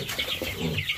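Chickens being herded on a farm cluck and squawk in a brief, close, busy burst.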